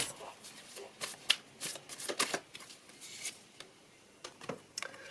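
Tarot cards are shuffled and drawn by hand in a quiet room, producing a series of crisp, irregular riffling and flicking bursts up close, with short pauses between the sharper snaps.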